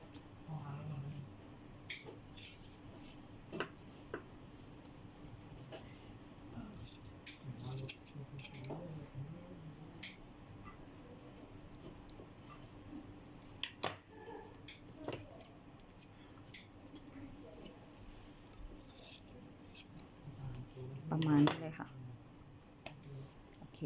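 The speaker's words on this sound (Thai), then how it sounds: "เราก็ตัดตามตัวอย่างเลยนะคะ" Scissors snip through fabric along a sleeve pattern in soft, intermittent cuts, heard close with quiet pauses between them and a voice talking over parts.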